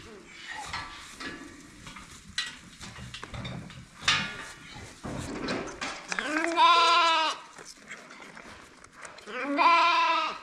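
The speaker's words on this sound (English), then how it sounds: "I gotta run out and feed some bum lambs" Bum lambs bleating on a farm, several wavering, nasal cries rising one after another near the listener, with clattering and rustling between calls.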